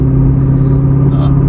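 A C6 Corvette engine drones steadily while driving, a loud, constant low rumble with no clear revving changes across the short stretch.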